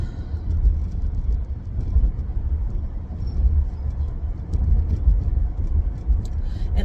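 Inside a moving car, a low continuous road rumble and engine drone fills the cabin, steady and fairly loud, with faint ticks and rattles above it.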